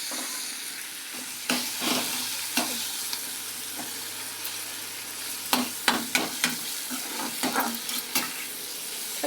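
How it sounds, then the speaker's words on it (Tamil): Tomatoes sauté in a hot pan under a steady bed of sizzling, broken by repeated sharp spatula scrapes and stirring taps that grow busier toward the end. "தக்காளி நல்லா வதங்கிட்ட உடனே"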